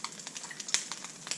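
A couple teaspoons of oil heating in a wok for a beef and broccoli stir fry, giving a soft, steady sizzle with small crackling pops, fairly faint and close, with no talking.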